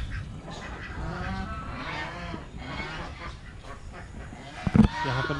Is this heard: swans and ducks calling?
yes